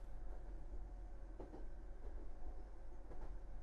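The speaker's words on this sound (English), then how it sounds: "The train was still running." A train in the visual novel game Raging Loop runs with a steady low rumble and faint rhythmic clacks, constant and fairly quiet throughout.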